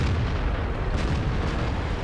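In World of Tanks, dense booming tank cannon fire and battle rumble roll on continuously, loud and heavy with several overlapping blasts.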